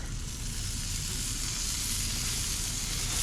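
Bacon sizzles steadily in a frying pan over heat, a constant close, bright crackling hiss with a low rumble beneath and no voices.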